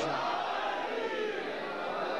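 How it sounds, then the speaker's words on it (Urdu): A large congregation at a mosque and imambargah shouts the Naara-e-Haidari slogan in unison, a dense, loud, continuous roar of many voices filling the hall without pause. "مل کے نعرے حیدری"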